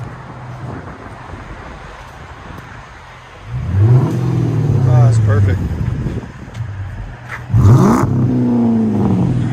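A Chrysler 300C with a 5.7L HEMI V8 and a Magnaflow exhaust with rear delete and 4-inch tips revs loudly up close, with two deep surges separated by idle. Wind buffets the microphone and someone speaks briefly.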